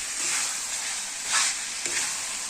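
Chicken for rezala fries and sizzles in a pan while being stirred, a continuous hiss with two louder scraping bursts as the pieces are turned, close and without talk.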